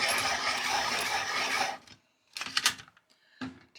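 A manual pencil sharpener rasps away at a coloured pencil in one continuous gritty scraping stretch of under two seconds, followed by a few short scratchy rubs and clicks, close and quiet.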